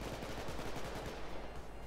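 Sniper gunfire in the heist shooter Payday 2 crackles as rapid, continuous shots. The dense, fairly quiet barrage carries on without any voices.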